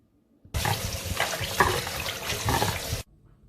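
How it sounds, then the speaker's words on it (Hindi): Tap water gushes into a sink as tripe (ojri) is washed, a loud, steady splashing stream that starts abruptly, runs for about two and a half seconds and cuts off sharply. "अब हम इसको धो लेंगे।"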